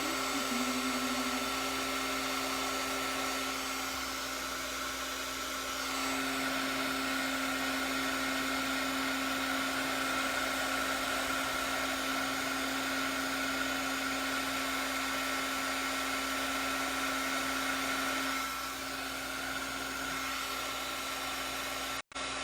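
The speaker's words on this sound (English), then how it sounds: "Bring out the heat gun. This is my favorite part, is the heat embossing." A craft heat gun blowing steadily while melting embossing powder, a continuous airy whir with a tonal hum that holds unbroken for about twenty seconds, close and fairly loud, then cuts off at the end.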